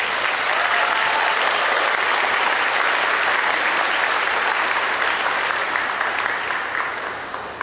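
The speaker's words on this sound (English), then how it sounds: "let's give them a round of applause." Loud, dense applause fills a school academic banquet hall as students walk up to be recognized, sustained evenly by a large audience and fading slightly at the close.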